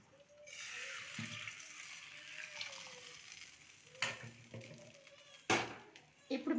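Hot oil tempering with curry leaves poured into simmering dal, a broad steady sizzle with a few sharper bursts of splashing and stirring, close by, with a voice talking over it.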